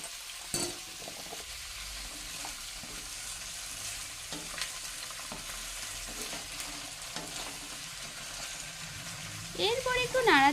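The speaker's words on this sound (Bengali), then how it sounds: "একটু নাড়াচাড়া করে এর মধ্যে দিয়ে দিচ্ছি কেটে রাখা ফুটির টুকরোগুলো।" Muskmelon pieces fry in a pan, a quiet steady sizzle broken by periodic scraping stirs, with a louder burst of activity near the end and some talk in the background.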